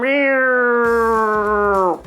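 A single drawn-out cat meow, loud and close, holding a steady pitch for about two seconds before dropping off at the end, with faint background noise coming in partway through.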